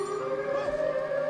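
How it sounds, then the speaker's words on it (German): A steady, loud siren wail from the video game GTA 5 holds a sustained tone that sounds alone without talk. "wir haben die Sirenen gerufen"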